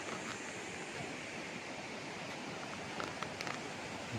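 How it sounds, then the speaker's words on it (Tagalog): A clean river beside a rural farm lot in Majayjay, Laguna, flowing with a continuous broadband rush and hiss, steady and unbroken, with faint sporadic knocks and no talk. "Ang ganda ng ilog mga kaprops ah."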